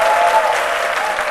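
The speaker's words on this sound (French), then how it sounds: "je vous demande d'applaudir très fort" Loud, dense applause from a studio audience greeting a French TV presenter on a midday show, a continuous wash of clapping with no voices over it.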